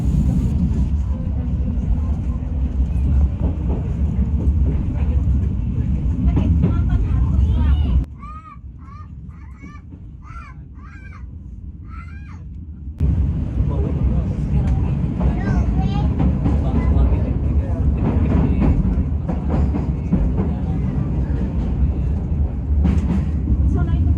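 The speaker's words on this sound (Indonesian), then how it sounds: "Saat ini kereta Bengawan akhirnya tiba nih guys di stasiun Lempuyangan." A Bengawan passenger train arrives at Lempuyangan station with a loud low rumble and rolling rattle. It drops to a quieter stretch with crow-like caws for a few seconds, then the heavy rumble resumes and continues.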